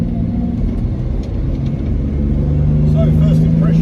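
A 1961 Jaguar Mark 2 3.8 driving up a road, its engine a steady low rumble that builds slightly toward the end, heard from inside the car.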